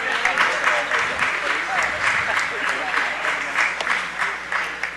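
Applause at a city council meeting for law enforcement agencies, a sustained crowd clapping filling the room, with voices talking alongside.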